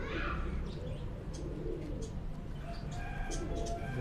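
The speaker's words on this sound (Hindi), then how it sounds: "गोल्डन टेडी कबूतरों का" Golden teddy pigeons of an old Sialkoti breed coo softly and steadily against a dense, murky background of low rumble, with a few faint chirps.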